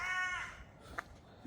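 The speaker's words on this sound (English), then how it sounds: "crows." Crows cawing outdoors, a harsh harmonic call at the start followed by a couple of shorter, fainter caws, with no talk over them.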